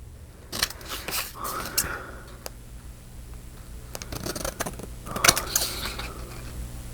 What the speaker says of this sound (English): I'm cutting at an angle you probably couldn't have seen there